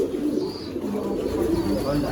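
Fancy pigeons such as Giribaz, Longduma and Madrasi breeds coo in a loft, a steady, close, low, murmuring layer that fills the whole stretch, with faint background voices.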